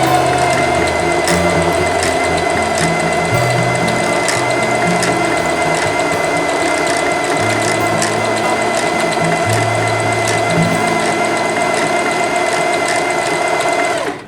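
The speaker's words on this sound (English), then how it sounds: "Now I'm going to stitch, I'm going to increase the stitch width to a" A Singer Heavy Duty 5554 sewing machine stitches steadily at a wide stitch width, its fast, even mechanical whir and needle clatter close and loud from start to finish without pause.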